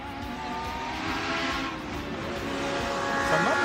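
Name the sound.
Chevron race car driving at a hill climb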